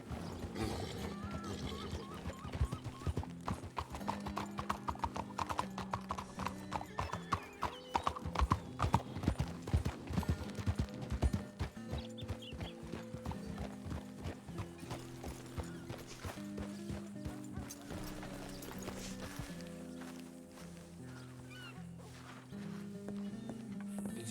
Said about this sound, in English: I see a lot of horses hitched.